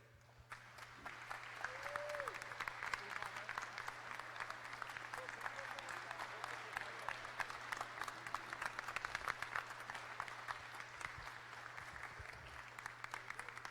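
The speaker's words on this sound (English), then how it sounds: "let's give another round of applause to all of the competitors today" A seated audience at a military combatives grappling championship gives a sustained round of applause, dense overlapping claps holding steady for over ten seconds with a constant low hum beneath and faint voices mixed in.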